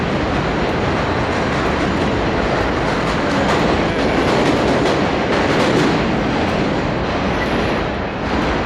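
A subway train runs through Jackson Heights, a loud, continuous rumble of wheels on rails with rattling carriages and faint squeals, steady throughout with no talking.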